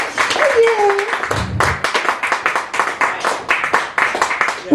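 Open-mic poetry crowd at a Chicago cafe clapping their hands in a quick, irregular rhythm, close and fairly loud, with voices talking over the start.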